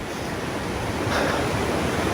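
A river rushes steadily beside a trail on the Colorado Trail, a broad continuous wash of water noise, near and fairly loud, with no voices.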